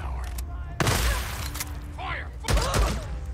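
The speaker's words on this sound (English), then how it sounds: "Fucking shotgun." Two heavy shotgun blasts, booming and close, with some game noise between them, during zombie-horde combat in the video game Days Gone.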